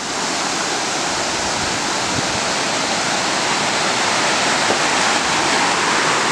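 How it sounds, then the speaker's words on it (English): Water rushing beneath an old mill building, a loud, steady broadband roar of flowing water that stays constant throughout, close by and with no voices over it. "there's actual water flowing underneath where we are standing."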